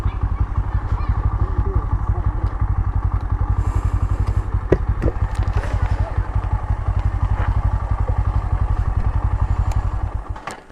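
A motorcycle engine chugs steadily and loudly up close for the whole stretch, with faint clatter and brief knocks over the rumble.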